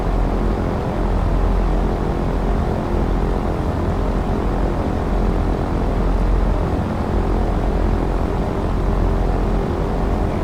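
A Douglas DC-3 in X-Plane 12 taxis with its radial propeller engines running, a steady loud droning rumble with low throb and a faint tonal hum that stays even and unbroken.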